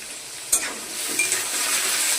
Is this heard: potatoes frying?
yes